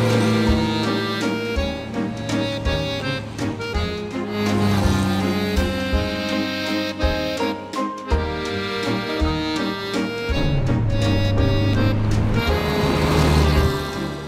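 A 1960s-era Renault Dauphine Ondine with a 28 hp engine drives along. Its engine gives a continuous humming drone whose pitch steps up and down through gear changes and throttle shifts, heard up close with no talking.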